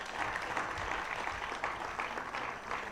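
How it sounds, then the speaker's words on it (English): Moderate applause from a crowd at a financial literacy quiz, an even wash of clapping heard at a slight distance. "Give them a round of applause."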